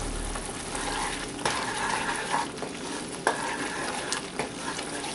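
Spices being stirred in a pan while cooking chole, with a steady scraping, sizzling texture and a few sharper clinks of a spoon against the pan, close and continuous.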